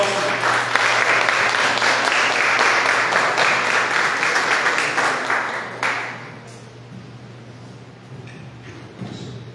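A church congregation applauds together, a dense, loud, steady wash of clapping that lasts about six seconds and then thins out to scattered claps and quiet room noise.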